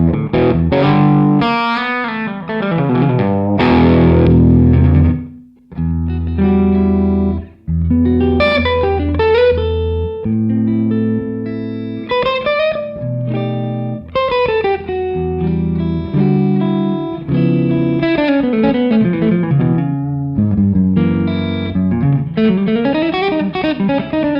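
Electric guitar played through a REVV D20 amp with the A hall B reverb setting, distorted chords and single-note lines ringing out with a lush hall tail, loud and continuous with one brief gap.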